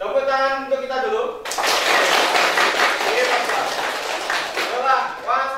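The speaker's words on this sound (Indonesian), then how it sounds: "Tepuk tangan untuk kita dulu." A classroom of students bursts into lively hand clapping after a voice finishes speaking, dense and close for several seconds, with some chatter and laughter mixed in toward the end.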